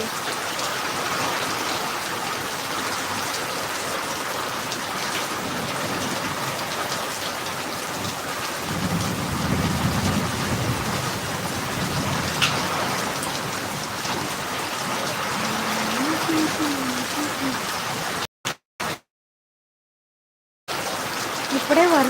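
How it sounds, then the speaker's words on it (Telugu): Heavy rain pours down steadily in a village, a dense, continuous hiss of drops on surfaces heard close, with a brief cut to silence near the end. "వర్షం పడుతుంది కదా వర్షం చూస్తారు అని చెప్పేసి అయితే లైవ్ పెట్టామన్నమాట"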